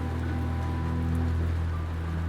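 Steady rain pattering on a surface, soft and continuous, with a low hum beneath, set as ambience for a tabletop roleplaying actual play scene of stepping onto a porch without a cloak.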